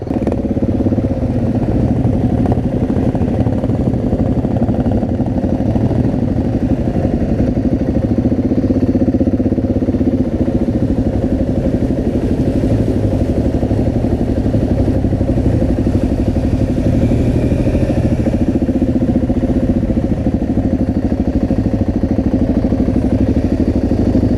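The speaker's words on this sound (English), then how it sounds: "KTMs are here. There's KTMs. They're proper bikes." KTM adventure motorcycles at an outdoor bike festival, a continuous loud engine rumble and clatter sustained throughout with no pauses, close by and dominating the scene.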